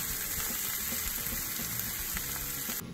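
Vegetables, including eggplant, sizzle steadily in a pan for Thai curry, giving a dense continuous frying hiss close up.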